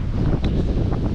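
Wind buffeting a microphone outdoors on a windy afternoon near Sanremo, a loud steady low rumble with gusty swells and no talk.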